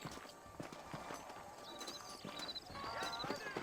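Horse hooves clip-clop in a steady rhythm with occasional whinnying in the video game Red Dead Redemption, quiet and slightly distant, while faint voices talk underneath.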